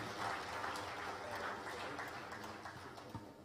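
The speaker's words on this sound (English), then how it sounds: "A round of applause for them, please" Members of an institute council at a formal ceremony receive a round of applause from the audience, a soft, even patter of many hands lasting the whole moment and fading slightly toward the end, picked up at some distance.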